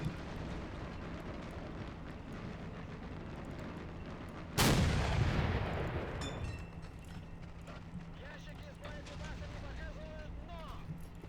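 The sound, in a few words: mortar fire in video game RobZ Realism Mod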